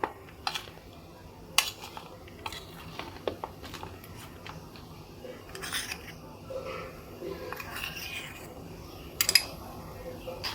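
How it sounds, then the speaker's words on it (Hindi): A spoon scrapes and clinks against a bowl while powdered sugar is mixed into amla candy, a series of light, sharp taps and scrapes at close range over a quiet background. "अब हम इसमें 1 चम्मच टेबल स्पून बूरा मिला लेते हैं, जो पिसी चीनी है।"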